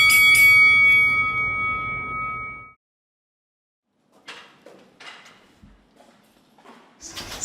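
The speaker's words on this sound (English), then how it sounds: "And the 3 bells for the end of chemo." A bell struck at a chemotherapy unit to mark the end of treatment rings out loud at the start, then its tone dies away over a few seconds. Near silence follows, then faint handling and movement noises.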